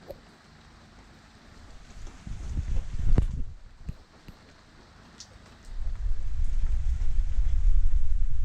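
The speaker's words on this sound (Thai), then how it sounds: "ฝนตก" Rain falls on Koh Lipe island, Thailand, a soft outdoor patter with low rumbling swells that build toward the end, plus a few sharp knocks midway.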